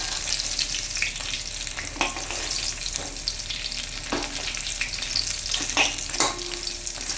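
A katla fish head frying in hot oil, a continuous close sizzle broken by several sharp stirring and turning knocks.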